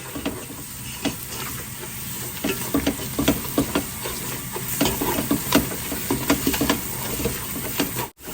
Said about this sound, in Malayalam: നമ്മുടെ പൊടിയെല്ലാം നല്ലോണം നമുക്ക് ഇളക്കി കൊടുക്കാം.